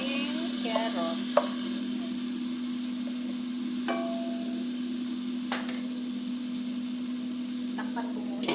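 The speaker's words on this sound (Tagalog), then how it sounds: "Lutuin natin ito hanggang ito ay lumambot ng ating carrots." Broccoli and carrots stir-fried in oyster sauce in a pan, with a steady sizzle and a few louder stirring scrapes and clanks spread through it.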